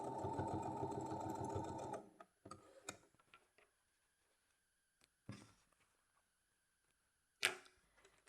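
A sewing machine stitches a zipped coin purse in a steady run for about two seconds, followed by quiet handling, faint clicks and a few short stitching bursts.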